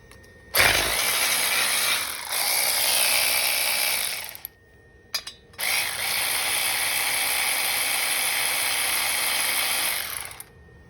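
Ratcheting wrench backing out the 4 mm cover bolts on a Suzuki C50 motorcycle, two long bursts of steady close mechanical clicking separated by a short pause with a couple of brief clacks, no talking.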